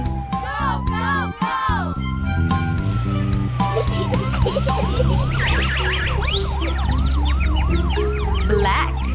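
A cartoon ambulance siren in a children's nursery rhyme, wailing in a steady repeating rise-and-fall pattern over background music, loud and continuous throughout.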